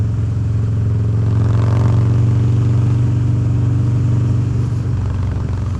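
A custom Harley-Davidson Dyna Street Bob motorcycle, ridden out on the road, gives a loud, steady low engine drone with a throbbing rumble that swells slightly as the throttle rolls on.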